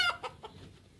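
Chickens cluck in a few quick, nasal bursts close by, fading into quiet farmyard ambience.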